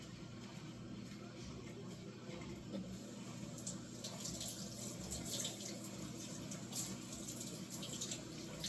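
Tap water runs steadily over a bunch of fresh thyme at a kitchen sink while chicken soup is being made, a continuous close rushing splash with no talk.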